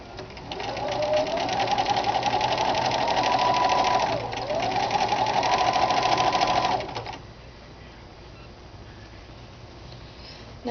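A sewing machine stitches a Kapp-style Christian head covering: a steady, fast close-up mechanical whir of needle strokes running for about seven seconds with a brief dip midway, then stopping into quiet room tone.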